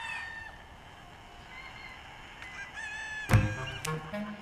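Chickens from a breeding farm cluck and crow in a quiet barn, with soft scattered calls early and a sudden sharp squawk followed by a crowing burst near the end.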